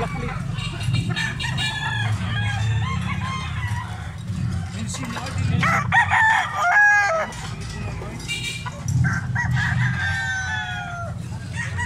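A rooster crows repeatedly amid clucking chickens, with other fowl calling nearby and people talking quietly underneath throughout.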